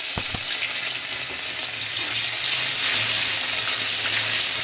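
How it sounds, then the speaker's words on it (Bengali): Panch phoron, dried red chillies, bay leaf and ginger sizzle in hot oil in a kadai after lentil badi are fried, a loud, steady, close frying hiss with a couple of faint clinks at the start. "এই যে বড়িটা ভেজে নেওয়ার পরে এই যে 5 ফোড়ন, শুকনো লঙ্কা, আদা দিলাম তেলে"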